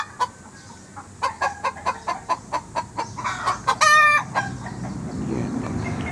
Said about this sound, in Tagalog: At pumapalakat ang aking mga manok